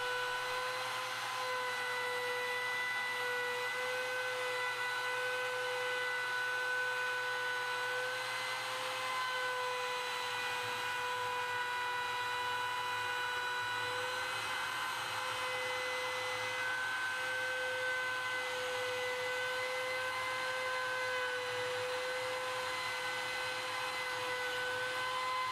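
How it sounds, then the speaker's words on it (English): A plunge router in a Milescraft SignPro sign jig cuts along a template with a continuous high-pitched motor whine, loud and steady, its tone shifting slightly partway through as the cut goes on. "Plunge the router down and run the bushing tight against the template, moving in a clockwise motion"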